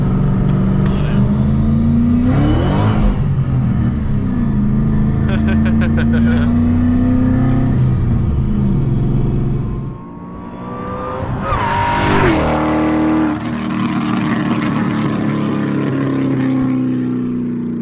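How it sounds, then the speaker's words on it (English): A supercharged 3-valve Mustang rumbles and then accelerates hard, its engine note rising through several gears with a faint blower whine on top, loud and heard from inside the car. "I don't know if you guys could hear the blower whine there"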